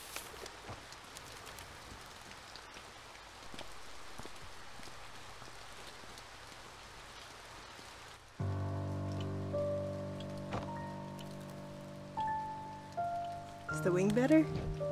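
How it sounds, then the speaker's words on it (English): Rain falls steadily in the video game A Bird Story, an even soft patter that carries on alone for about eight seconds before piano music enters and continues over it. "Oh, fun. It's raining."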